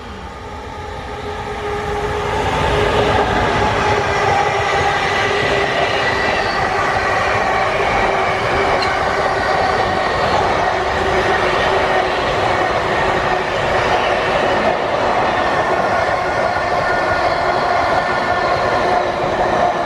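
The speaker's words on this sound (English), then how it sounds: "This is a goods train by the looks of things." A northbound freight train rolls steadily past, a continuous loud rumble and clatter of wagons rising in the first seconds and holding throughout.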